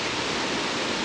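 A jungle waterfall rushes in a steady, dense broadband roar, continuous and fairly close with no breaks, and no voices are heard.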